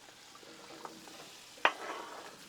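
Butter and potatoes sizzling on a Blackstone griddle, a soft steady fry with one sharp clatter partway through as food lands or a utensil strikes the flat top.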